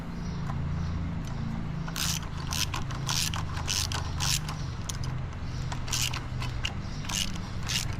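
Exhaust manifold bolts on a Case 305 tractor being tightened with a ratchet, a rapid series of close metallic clicks in short bursts over a steady low hum.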